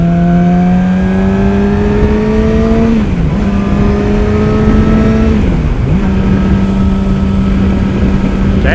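A 2018 Yamaha R6 motorcycle engine revs steadily and loud through climbing gears while riding, with two clear dips at shift points as it warms up, close to the bike.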